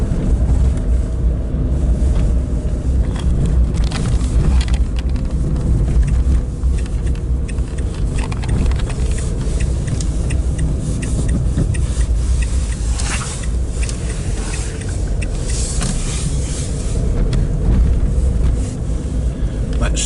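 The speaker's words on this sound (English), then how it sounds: "There's always a little bit of a bottleneck here with cars that stop outside the boulangerie" Cars idle and creep through a traffic bottleneck outside a boulangerie on a French village street, a steady low engine rumble with some wind buffeting, continuous and fairly close throughout.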